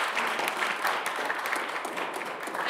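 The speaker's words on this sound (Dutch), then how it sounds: "Dus een applaus daarvoor." An audience at a school HAVO exam concert applauds, a dense, even wash of clapping that holds steady for a few seconds with no voices standing out.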